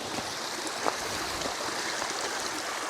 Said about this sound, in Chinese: 这个水流它是非常大的